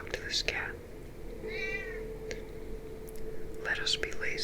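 A single short meow from a cat in a video game rises out of a quiet room tone, with soft whispery voices before and after it.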